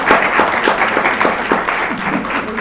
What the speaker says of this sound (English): Maybe a little round of applause.